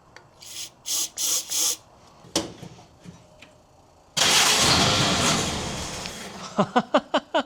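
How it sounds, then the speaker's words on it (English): A 1950 Willys M38 engine is cranked after starting fluid is sprayed in: several short grinding bursts, then a loud rushing catch that fades, followed by quick rhythmic cranking pulses. "I'm going to shoot in a little starting fluid and see what that does for us."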